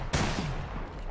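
Gunfire in the battle royale game Apex Legends: one loud, close shot cracks out early and trails into a long, rumbling decay, with no voices over it.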